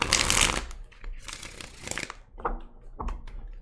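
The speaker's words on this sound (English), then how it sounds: "Some of these cards are a little bit more difficult to shuffle than others." Playing cards being shuffled up close, heard as several short riffling bursts separated by brief pauses with no talking.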